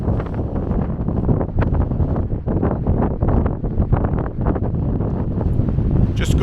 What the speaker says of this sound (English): it's glorious, but windy still, so windy